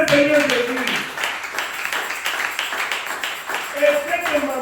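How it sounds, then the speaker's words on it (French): Congregation in a church service clapping rhythmically together, steady repeated claps near the listener, with a voice speaking and singing over them at the start and end. "Applaudissez le Seigneur Jésus."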